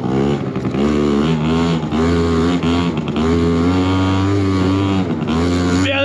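A 2-stroke scooter engine revs hard and steadily for about six seconds during a wheelie attempt, loud and close, its buzzing tone rising and falling with the throttle, with no talking.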